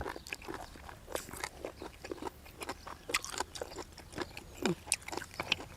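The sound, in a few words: crunchy boiled apple snails being eaten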